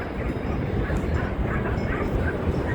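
A dog barks and yips amid steady broadband background noise at a crowded Washington coast state park picnic area full of people and dogs of many breeds.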